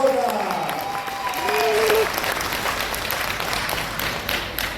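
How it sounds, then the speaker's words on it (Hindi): A large audience at a DXN direct-selling meeting claps loudly and steadily, a dense roar of applause that swells in the middle. Voices shout and call out over it near the start. "एक जोरदार ताली अपने लिए और ऊपर वाले।"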